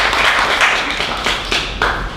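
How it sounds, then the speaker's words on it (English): A small group of people applauds at a ship registration ceremony, a dense close spatter of hand claps continuing throughout, with a few louder claps standing out. "Can I just ask, in their absence, a round of applause for those?"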